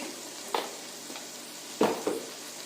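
Crab being stirred with turmeric, coriander, chilli and chicken masala powders in a frying pan, a few distinct scraping spoon strokes over a faint steady sizzle, close and fairly quiet.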